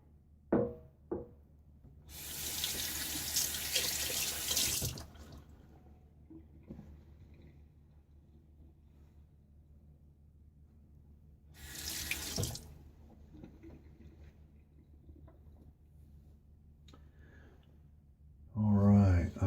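Cold tap water runs hard into a bathroom sink during a wet shave, gushing in two loud bursts with quieter handling between, ending with a close knock.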